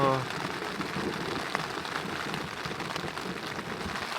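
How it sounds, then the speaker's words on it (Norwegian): Heavy rain pours steadily onto a tarp and tent at a wilderness camp in Gutulia, Norway, as a dense, close, continuous patter with a few sharper drops and no voices. "Det kommer nok enda hardere regn enn det vi har her nå."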